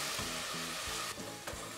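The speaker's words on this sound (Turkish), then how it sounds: "Salçalarımı da bir güzel kavuracağım." Tomato paste sautéing with onions in a pan for stuffed vine leaves, a steady close sizzle with rhythmic stirring strokes scraping through it, no voices.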